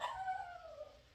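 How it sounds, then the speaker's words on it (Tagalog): A dog gives a single brief, faint yelp or whine that slides downward in pitch, heard alone and a little distant. "Wala. Ang aso lang."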